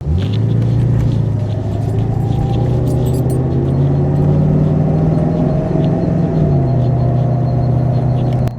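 Classic Mercedes 450 SLC under way with a steady, loud low engine hum and road rumble, the pitch shifting slightly as it changes speed, with light rattles inside the cabin and no talking.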